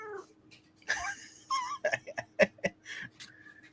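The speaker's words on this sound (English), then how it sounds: "I'm not expecting to have a cat noise in the background" A pet cat named Coco lets out a series of drawn-out, moaning meows and wails, loud and close, with a few short yowls in quick succession and no talk.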